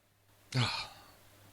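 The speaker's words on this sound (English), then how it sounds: "Except now I got to yawn." A person lets out a single yawn, a brief breathy exhale with a voiced low tone at the start, close and fairly quiet, then trailing off into near silence.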